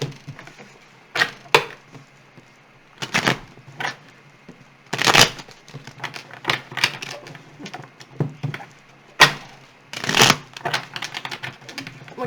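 Tarot cards are shuffled in irregular bursts of crisp riffles and dry snaps, with short gaps between each handful, close up and without talk.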